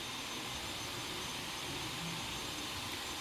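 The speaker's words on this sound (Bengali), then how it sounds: "এবার এটাকে বাটবো, মিক্সিতেই বাটি, হাতে আর বাটি না" A kitchen mixer grinder blends coriander leaves, green chili and raw garlic into a paste, making a steady loud whirring roar with no break and no talk.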